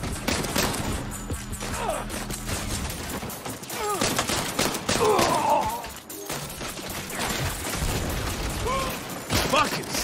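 Gunfire from a Saints Row video game firefight, dense and loud, with repeated bursts and shots layered over game music and effects, a voice talking intermittently.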